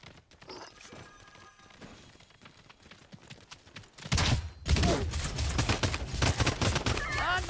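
Gunfire in the Realm Royale battle royale game, a quiet stretch of scattered faint shots followed by a sudden loud barrage of rapid overlapping shots and impacts in the second half, with no talk.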